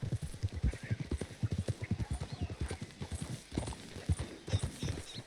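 Horses walk along a road in the Red Dead Redemption 2 video game, their hooves clip-clopping in a steady, close rhythm with crisp, even strikes and only faint background ambience.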